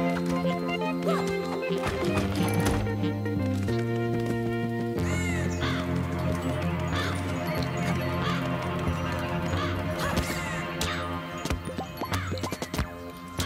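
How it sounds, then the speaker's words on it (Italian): Crows cawing in the video game Dreams: harsh repeated caws over a layered game music bed with sustained tones and scattered bright calls, the sounds dense and fairly loud throughout. "odio i corvi"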